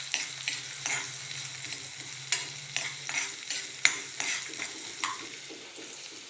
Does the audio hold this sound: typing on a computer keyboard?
no